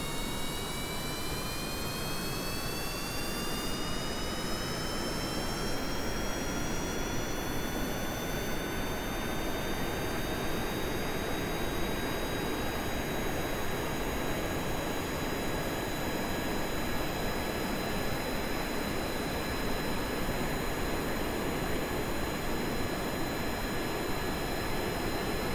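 A Kerbal Space Program rocket engine roars at full throttle in a loud continuous broadband rush with a faint rising whine, steady and unbroken throughout.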